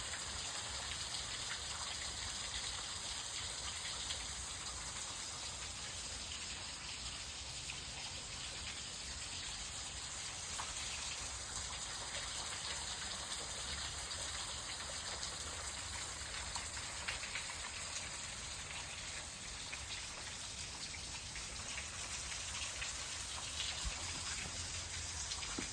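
Water trickling and gushing beneath fallen leaves and rocks along a hiking trail, a steady, close, broadband wash that runs unbroken throughout with no talk over it.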